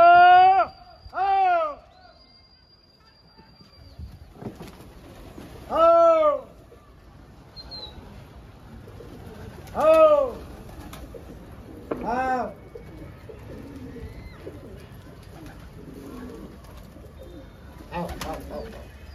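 Patiala pigeons on rooftops in Rohtak give repeated throaty coos in separate calls a few seconds apart. The early ones are close and loud, the later ones softer, over faint outdoor ambience.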